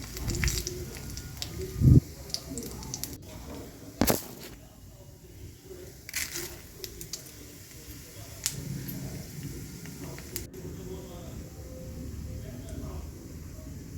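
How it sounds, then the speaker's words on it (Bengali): Steady oily sizzle and crackle of whole spices, cumin and bay leaves frying in mustard oil in a pan, with a few sharper pops and clatters while someone talks nearby. "তেজপাতা দিয়েছি দিয়ে মশলাটা ভাজবো"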